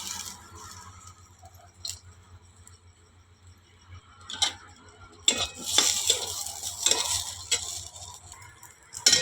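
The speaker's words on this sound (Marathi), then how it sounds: "आता मी ह्याच्यात खोबरं भाजते" Grated coconut roasting in a pan over a wood-fired chulha, soft scraping stirs and a light dry sizzle, growing busier and louder toward the end, no talking.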